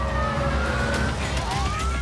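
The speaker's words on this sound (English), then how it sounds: "The sirens, I heard them, they were coming." Wailing emergency sirens rise and fall over a steady low engine rumble, loud and close, with several siren tones overlapping continuously, in Las Vegas.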